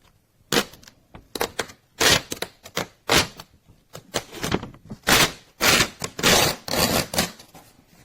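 Printed paper is torn off a Phomemo M834 portable A4 thermal printer in a series of close, rough ripping bursts separated by short pauses, loud and alone.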